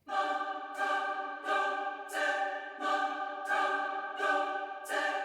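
A choir of soprano voices layered in an orchestral score sings sustained, swelling chords that pulse in regular phrases, full and smooth without any solo speech.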